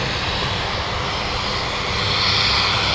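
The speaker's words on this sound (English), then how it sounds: "Oh, seaplane. Nice. We have the seaplane." Cessna Caravan seaplane at Anchorage, its engine giving a steady, even drone with a broad airy wash that swells slightly toward the end, fairly close and heard alone without voices.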